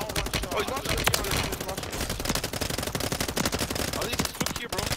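Rapid, dense bursts of automatic gunfire in a Call of Duty video game, close and loud, with shots overlapping almost continuously for the whole stretch.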